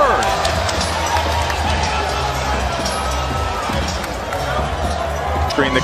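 A boxing arena crowd murmurs and stirs in a steady, dense roar of voices and movement, loud and continuous throughout.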